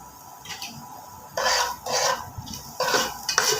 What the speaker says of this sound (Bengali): লবণ হলুদ দিয়ে ভালোভাবে নেড়ে ফের ভাজা ভাজা করে একটু নিতে হবে